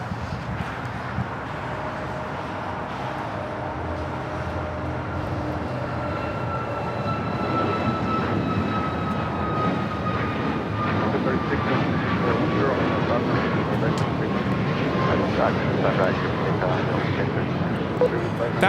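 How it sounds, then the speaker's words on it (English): A Southwest Airlines Boeing 737 MAX 8 takes off at LAX, its engine roar building steadily and staying loud and broadband through the whole stretch, with whining engine tones sliding across it. No one speaks. "That was Southwest Airlines 5934 taking off to Dallas Love Field on a MAX 8."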